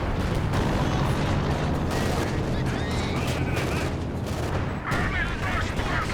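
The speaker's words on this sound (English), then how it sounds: "Heavy mortar barrage coming in again from the artillery officer." A heavy mortar barrage lands in a Company of Heroes 2 late-game 3v3 battle, a dense, continuous rumble of overlapping shell impacts and gunfire, loud throughout, with faint voices mixed in.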